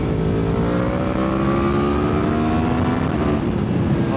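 A Yamaha MT-10 SP motorcycle accelerates hard, its engine note climbing steadily in pitch for several seconds, close and loud with no talking over it.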